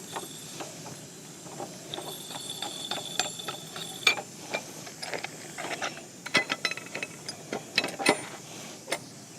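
A threaded shore strut is wound out during collapse rescue shoring, producing irregular metallic clicks and ratcheting knocks, some sharp and close, spread over a quiet background.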